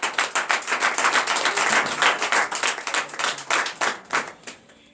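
Church congregation clapping in acclamation at a night deliverance and prophecy service, a dense run of rapid hand claps sustained near and loud before thinning out toward the end.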